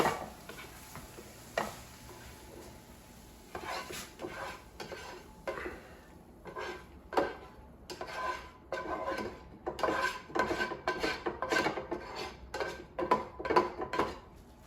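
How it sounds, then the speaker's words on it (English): Metal utensils scrape and clink against a frying pan in irregular bursts as hibachi noodles are taken off, growing busier and louder toward the end, with no talking. "So now let's take them off the frying pan."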